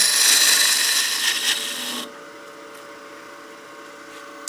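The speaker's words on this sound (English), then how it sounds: "So let's use our skew. We'll do a nice peel cut here, give ourselves a tenon." A skew chisel makes a peel cut on spinning wood on a lathe, shaping a tenon for a bat house ornament. A bright, steady shaving hiss runs for about two seconds, then stops, leaving a quiet hum.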